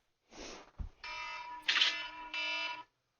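A morning alarm goes off in a quiet room, sounding in several short electronic beeping bursts with brief gaps between them, moderately loud with a soft knock among them.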